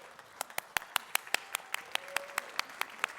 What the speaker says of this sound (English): So please join me in a round of applause for Mary and Bill for their service to our businesses and community